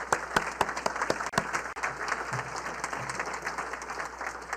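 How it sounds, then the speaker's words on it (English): Applause at a Rotary club meeting for the visiting guests, steady moderate clapping from a small room audience with scattered sharp individual claps over a low hum. "Let's give everyone a round of applause."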